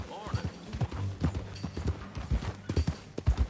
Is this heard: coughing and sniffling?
no